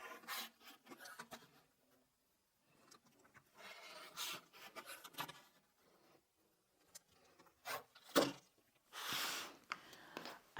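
Jelly roll fabric strips being cut to 2.5 inches with a rotary cutter on a mat, soft intermittent rubbing and rasping strokes with pauses between, close and quiet.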